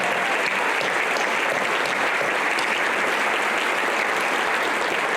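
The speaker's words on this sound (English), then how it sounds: "How about one more round of applause for the finest you have met so far?" A crowd at a Teacher of the Year awards ceremony claps steadily, a dense, even wash of applause that holds at the same level throughout without pause.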